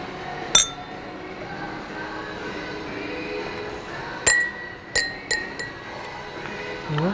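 IKEA Innbjuden champagne glasses with a dotted pattern clink against each other, with several bright, ringing glass taps spaced through a low background rumble.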